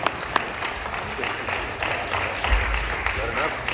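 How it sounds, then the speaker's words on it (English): An audience applauds a performer at a historic downtown theater during a live show, sustained crowd clapping with voices talking over it. "Can I get a round of applause for Bill Wade?"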